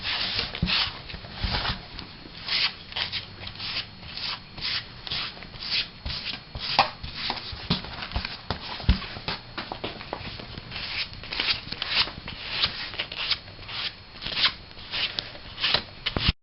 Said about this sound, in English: And we rough sand it.